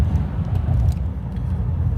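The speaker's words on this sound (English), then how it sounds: "Our gas engine is still kicking up." The gas engine of a Ford Maverick Hybrid pickup hums steadily while driving, a low, loud, continuous drone with road and cabin rumble.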